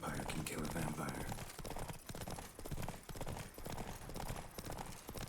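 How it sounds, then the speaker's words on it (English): Rhythmic clip-clop of horse hooves in The Witcher 3, a steady trotting beat under continuous game music and ambience with a voice talking over it. "have you seen the horse that the man has got?"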